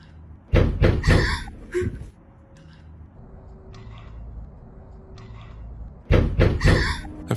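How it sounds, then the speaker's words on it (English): Several loud knocks strike a door in quick clusters, with sharp impacts at the start and again near the end, separated by a quiet stretch of faint rumbling ambience. "followed by a loud knock at the door."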